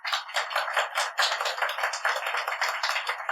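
A church congregation claps in a brisk, dense patter of many hands, steady and fairly close for several seconds, with no voices over it.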